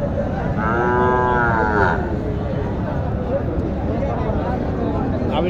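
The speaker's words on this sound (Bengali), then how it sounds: "এই যে কালো গরুটা কথা বলতেছে ওরা" A black cow at a cattle market gives a loud, drawn-out moo close by, followed by the steady murmur of the crowded market and people talking.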